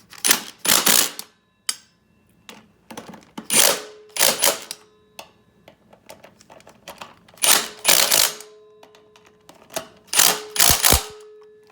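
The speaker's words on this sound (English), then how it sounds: "we're just going to zip these down with the impact right now" Impact wrench zipping lug nuts onto the wheels of a Yamaha YFZ450 ATV, in repeated loud, sharp bursts of rattling hammering separated by short quiet gaps, close by with no talk.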